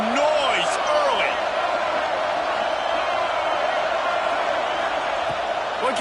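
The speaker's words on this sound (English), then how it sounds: "This crowd bringing the energy and noise early." Football stadium crowd at an FSU versus Penn State game, a dense, loud roar of fans throughout, with a few whoops and bursts rising out of it.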